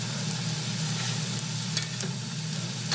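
Potato pancakes frying and searing in a hot pan, a steady close sizzle with constant crackle and a low hum underneath, no talking.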